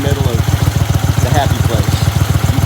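Mud Buddy boat motor fitted with dual 38 mm two-stroke carburetors running steadily on Caddo Lake, a close, loud, rapid rhythmic thrum with faint talking.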